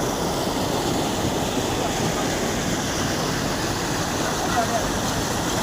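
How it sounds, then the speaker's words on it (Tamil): Water pours steadily down Jogini waterfall near Manali, a continuous broadband rush that stays loud and even throughout with no breaks. "அவ்வளோ அருமையாக தண்ணி ஊற்றுது"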